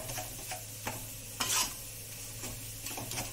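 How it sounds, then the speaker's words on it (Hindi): Wheat flour roasting in a pan for ginger halwa as it is stirred, a soft steady sizzle with scraping strokes of a spoon, one sharper scrape standing out, fairly quiet and close. "आटा करीब करीब हमारा भून चुका है, 2-3 मिनट और चलाएंगे"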